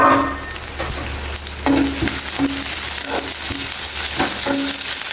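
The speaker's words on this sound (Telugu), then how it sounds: "ఇవి చక్కగా వేగిపోయినాయి ఇంకొక నిమిషం మూత పెడదామండి కొంచెం మగ్గితే బాగుంటుంది" Onions and other ingredients fry in a pan for a Telugu-style bitter gourd fry, a steady close sizzle broken by repeated scraping stirs of a spatula against the pan, with no talking.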